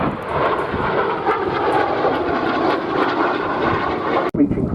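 North American F-86 Sabre jet flying in, a loud broadband roar sustained for several seconds before cutting off abruptly.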